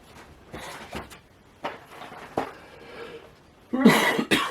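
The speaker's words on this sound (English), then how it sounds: "excuse me if I cough a lot on this video" A few short, harsh coughs spaced across the moment, the last burst louder and rougher, close to the listener with no talking.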